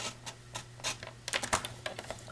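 A blade cuts a slit through a paper card, giving a quick series of faint scratchy clicks and scrapes at an uneven pace over a steady low hum, close to the listener with no one talking.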